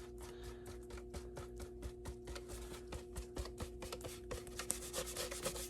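A rag rubbed back and forth over a painted prop to wipe off acrylic wash, giving soft, rapid scrubbing strokes in a steady rhythm, quiet and close with a faint hum underneath.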